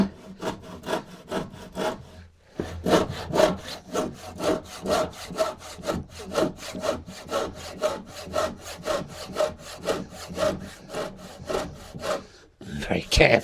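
A hand saw cuts through wood for workbench stretchers with steady back-and-forth strokes, close and rhythmic, after a short pause early on and a brief stop near the end.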